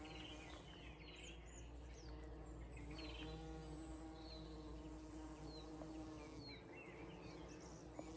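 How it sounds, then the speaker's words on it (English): Steady low buzzing of large queen bumblebees foraging among flowering currant blossoms, continuous and fairly close, with faint birdsong chirping in the background. "all the beautiful big queen bees are out and they're just foraging amongst this ribes"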